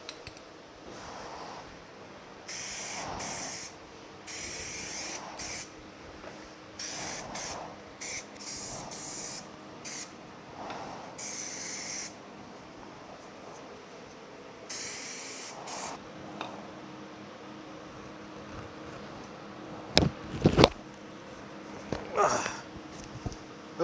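An aerosol spray can lays primer on the frame of a 1965 Chevrolet Malibu SS, firing in repeated hissing bursts of one to two seconds with pauses between, followed by a few sharp clanks near the end.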